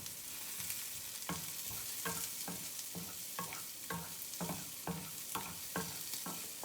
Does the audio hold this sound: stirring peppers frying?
yes